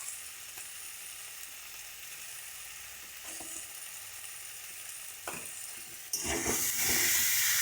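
Spice paste with tomato sizzles steadily in a pan for a Bengali fish curry, a continuous close frying hiss that swells louder near the end as the mixture is stirred, with no talk.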